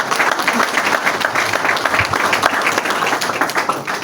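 An audience at an awards evening, the Soirée des Étoiles, bursts into sustained, dense applause with scattered cheers. The clapping is loud and continuous from start to finish.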